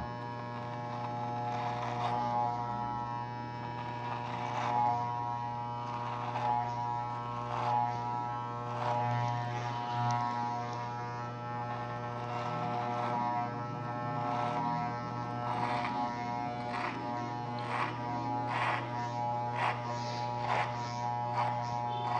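An electric hair clipper fitted with a taller guard comb trims the top of the hair, giving a steady close-up buzzing hum with strong harmonics and soft, regularly repeating swishes as it passes through the hair.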